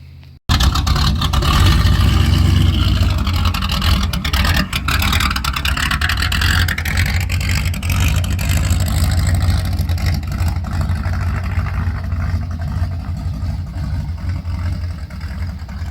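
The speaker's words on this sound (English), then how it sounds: "Now we're going to see how she sounds going down the road." A loud, raspy engine roars steadily as a car with a 3-inch straight pipe exhaust drives down the road, its rumbling exhaust droning continuously close by with slight shifts in pitch.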